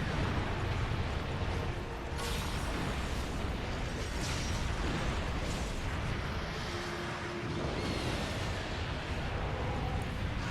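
Explosions in Monster Hunter Generations Ultimate land as dense booming bursts over a constant rumbling wash of battle noise, loud and continuous throughout.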